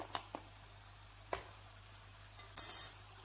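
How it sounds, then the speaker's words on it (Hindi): Spice masala of red chili powder, turmeric and garam masala being stirred in a pan while cooking Aloo Bhujia, giving a few faint, scattered scrapes and clinks over a quiet low sizzle. "अब इसको अच्छी तरह मिक्स करके भून लेते हैं।"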